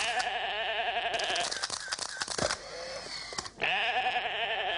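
A sheep bleats repeatedly, loud and near, with wavering cries broken by a short stretch of clattering noise before the bleating resumes.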